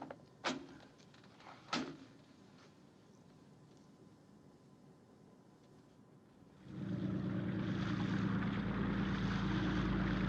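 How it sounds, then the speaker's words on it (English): A contact plane draws in from a distance, its propeller engine hum rising abruptly to a loud, steady drone after a quieter stretch marked by a couple of door-like knocks. "Contact plane approaching on schedule."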